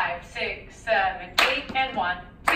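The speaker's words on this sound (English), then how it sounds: "we usually clap on the eights just because that's very common" Hand claps mark the eight count in a solo jazz dance class, a few sharp claps landing between stretches of a voice calling the count.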